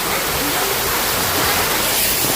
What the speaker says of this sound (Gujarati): આ ઝરણું જુઓ, ધોધ મસ્ત પડે છે